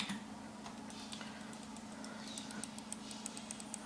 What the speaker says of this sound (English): Clicking the mouse,